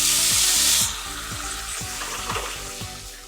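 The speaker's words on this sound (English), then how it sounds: "Let's add all the mix of the cherry tomato with the oil and everything to the pot," A cherry tomato mix with oil hits a hot pot with a loud hiss that settles into steady sizzling and crackling, close and uninterrupted by speech.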